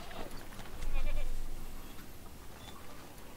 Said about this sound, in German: Komm, wir gucken mal den Ziegen ein bisschen zu.